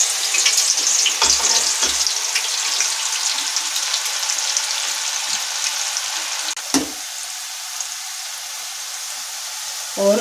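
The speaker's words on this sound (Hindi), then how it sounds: "और इन्हें भी मैं फ्राई करने के लिए डाल देती हूँ इसमें।" Steady, bright sizzling of thin banana chips deep frying in hot oil, continuous and close, with a couple of brief clinks and stirring sounds.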